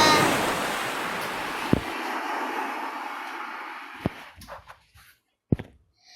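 Ocean waves wash in with a broad, loud rush that slowly fades, followed by a few sharp isolated knocks and thin splashes in near quiet.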